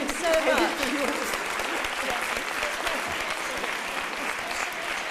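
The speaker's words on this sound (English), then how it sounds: "a big round of applause for everybody." An audience at an award ceremony claps in a dense, sustained round of applause, moderately distant and steady, with a voice briefly heard over it.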